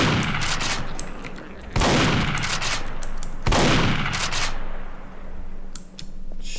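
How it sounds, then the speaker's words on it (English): Machine gun in the Garry's Mod video game, fired in three long, loud automatic bursts, each starting with a sharp crack, followed by a few sparse clicks and shots near the end, without speech. "we have a machine gun"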